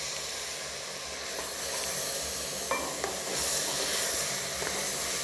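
Chopped tomato goes into a hot pan for a mutton cashew fry, and the oil breaks into a steady, soft sizzle and hiss with a few light clinks of stirring. The sound is close and fairly quiet, and no one talks over it.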